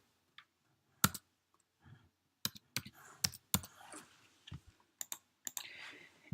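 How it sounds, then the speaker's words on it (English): Someone types a code on a computer keyboard, sparse clicks and short bursts of keystrokes separated by pauses in a quiet room, with a little faint background noise between presses. "So you would go ahead and type in your code."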